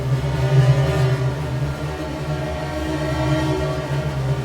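A chorus effect pedal: a sustained, shimmering synth chord wavers gently in pitch, its layered tones thickened by a slow, swirling chorus modulation.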